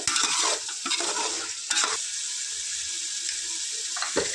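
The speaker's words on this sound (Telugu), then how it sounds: "అల్లం వెల్లుల్లి పేస్ట్ టూ టూ స్పూన్స్ వేసుకుంటాను ఫ్రెండ్స్ ఇది ఒక టూ మినిట్స్ చక్కగా ఫ్రై చేసుకోవాలి" Ginger garlic paste fries in a pan for chicken curry with a loud hiss and sputter, broken by a few bursts of stirring near the start and again near the end, close up and without talk.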